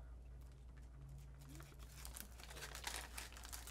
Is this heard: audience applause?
no